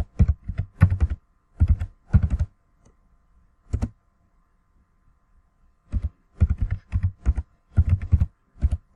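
Typing a MySQL root password on a computer keyboard: close, crisp key clicks in quick bursts of several strokes, separated by short pauses and one longer gap, with no talk.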